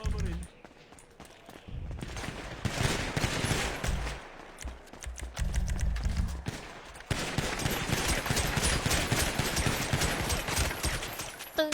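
Rapid bursts of video-game gunfire crackle through most of the stretch, loud and dense, with short gaps between volleys and excited voices talking over the shooting.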